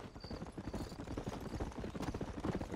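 Horse hooves clip-clop in a steady quick rhythm in the Western video game Red Dead Redemption, played on Xbox One X, continuous and fairly close, with no clear whinny standing out.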